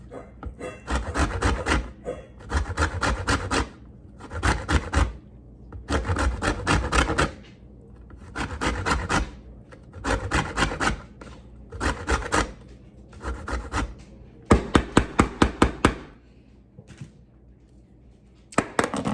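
Lime being zested on a grater, repeated bursts of fast rasping strokes in short rhythmic runs with brief pauses between them, close and fairly loud, with no talking.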